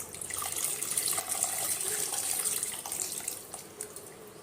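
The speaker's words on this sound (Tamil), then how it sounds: "இதோட புளி தண்ணி சேர்த்துக்கலாம்." Tamarind water is poured into a simmering village-style fish curry masala, giving a continuous, fairly soft splashing trickle of liquid that runs for several seconds.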